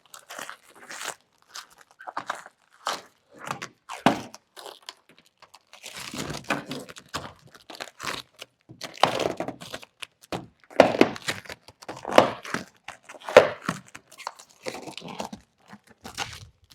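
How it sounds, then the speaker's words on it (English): Damaged paint protection film is peeled off a car in a series of crackling, tearing pulls, irregular bursts of crinkly ripping close up with short gaps between. "Removing damaged PPF, just like that."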